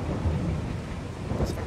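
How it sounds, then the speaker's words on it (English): A thunderstorm rages in a video game, with a deep, continuous rumble of thunder and rain filling the space at steady loudness, a brief brighter crack near the end. "I've never had a storm in this game."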